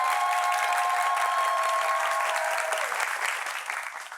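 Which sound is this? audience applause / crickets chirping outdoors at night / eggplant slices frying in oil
audience applause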